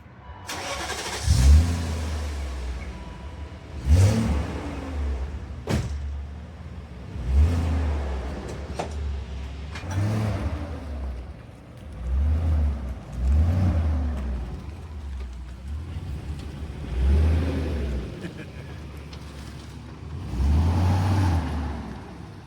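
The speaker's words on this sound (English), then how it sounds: "we're going to do a cold start video and then a drive-by for you" A BMW 540i with a Magnaflow muffler and stock resonator rises and falls in a series of loud throaty revs, repeating every couple of seconds, nearby with a deep exhaust rumble.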